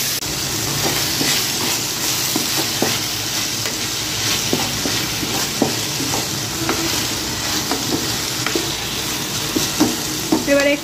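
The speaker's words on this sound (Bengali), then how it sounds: "এবারে আলুগুলো দিয়ে দিচ্ছি। আর এখানে লবণ মাখিয়ে রেখেছিলাম, সহজেই ভাজা হয়ে যাবে।" Salted potato pieces fry in hot oil in a pan, a steady sizzle broken by scraping, clinking stirs from a spatula at irregular intervals, close and clear with no talking.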